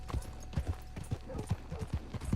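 Horse hooves clip-clop at a steady walking rhythm in Red Dead Redemption 2, close and clear over a low ambient bed, with no voices.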